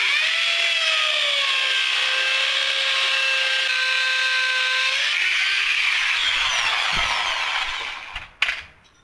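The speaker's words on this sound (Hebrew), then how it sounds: "נתחיל לקדוח, קצת רעש לא נורא." A power drill bores holes in a wall for wall plugs to mount a clamp for plastic drain piping, giving a loud, steady, high whine for about eight seconds before it winds down and stops with a few clunks.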